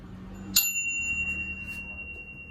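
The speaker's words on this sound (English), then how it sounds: "It's a nice bell, rings for a long time." A single sharp ding of a bicycle bell built into the stem of a Maruishi Road Ace bike, close and bright, ringing out with a long, slowly fading tone.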